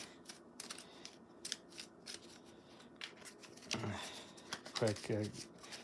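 Playing cards are shuffled while a tabletop fantasy dungeon game is set up. A short burst of riffling rattle is heard, with a brief voice and soft table sounds around it.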